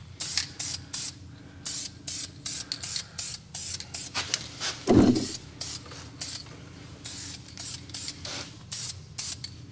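Aerosol spray paint hissing onto a 1981 El Camino steering column in short, rhythmic bursts, close up, with one brief clunk midway.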